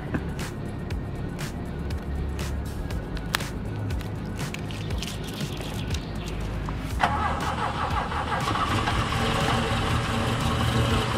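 An Alfa Romeo Giulietta engine cranks with rapid clicking bursts, then catches about seven seconds in and settles into a steady, close idle that carries on to the end with no talking.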